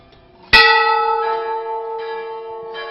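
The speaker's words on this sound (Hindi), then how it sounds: "यहां इतनी घंटियां हैं कि आप गिनते गिनते थक जाएंगे, मगर घंटियों को गिन नहीं पाएंगे।" A single temple bell is struck loudly and rings out with a long, sustained metallic tone, decaying slowly, with faint further strikes of other bells behind it.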